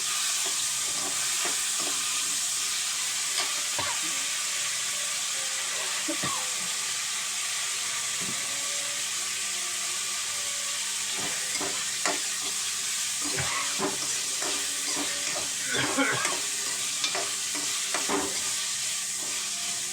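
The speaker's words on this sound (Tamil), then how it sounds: "தக்காளியும் கொட்டிக்கலாம். நல்லா வதக்கலாம்." Tomatoes sautéing and being stirred in a pan for yam curry, a steady low sizzle with scattered scraping and clinking of a spoon at the close, heard alone.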